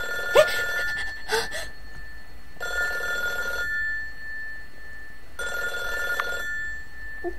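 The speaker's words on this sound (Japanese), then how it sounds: "電話、鳴ってるよ。" A telephone rings in the Pierrot+ cursed-circus horror game: a steady electronic bell in three long bursts with pauses between, heard alone over a quiet hum after a couple of brief sharp sounds at the start.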